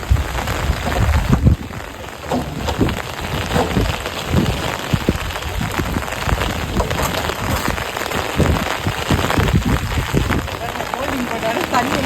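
Rain falling steadily on surfaces outdoors, a dense continuous patter close by for the whole stretch, with voices talking underneath.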